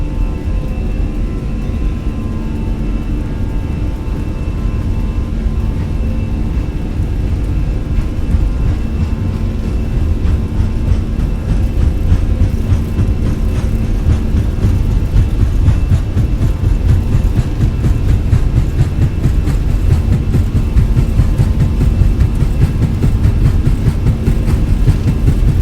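An airliner taxiing after landing in Microsoft Flight Simulator gives a steady, loud engine drone with a low rumble that holds evenly throughout, with no talking.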